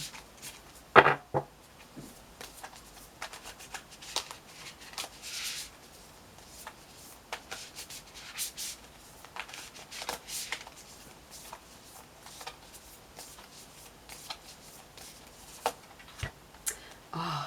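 Tarot-style spell cards being shuffled and handled up close, heard as soft riffling and flicking card noises with scattered sharp taps across the span and no talk.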